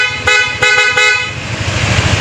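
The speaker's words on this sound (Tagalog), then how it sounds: "Stock horn." A stock horn on a first-version Yamaha Aerox scooter sounds several short toots, three or four quick honks close to the microphone, followed by a steady engine idle with no talking.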